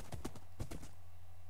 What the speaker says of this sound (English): This is a fast horse.